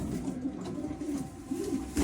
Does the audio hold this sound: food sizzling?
no